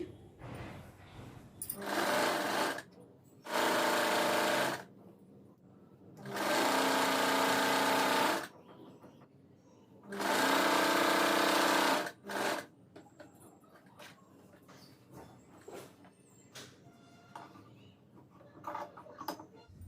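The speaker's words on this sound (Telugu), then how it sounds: "ఇలా పెట్టుకొని ఇది స్టిచ్ చేసేయాలి" A sewing machine stitches a designer dress in four separate bursts of steady, fast whirring, with quiet handling pauses between the runs.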